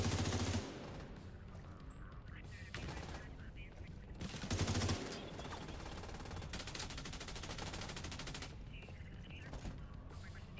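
Heavy gunfire barrage in Division 2, dense bursts of rapid shots filling the whole stretch, with louder spikes near the start and middle, fairly faint overall with some talk mixed in.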